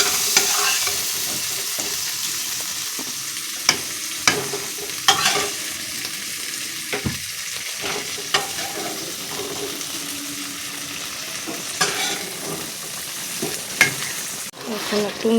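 A spatula stirs and scrapes through taro stolon and shrimp curry with mustard and poppy seed paste in a pan. Irregular clanks and scrapes sit over a soft background sizzle, with no talking.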